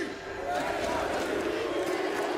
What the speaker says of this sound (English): You want to start an NRG chant right now?